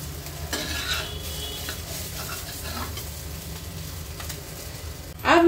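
A cheese omelet sandwich fries in a pan with a steady, close sizzle and occasional soft scraping, ending in a louder clatter of utensils against the pan.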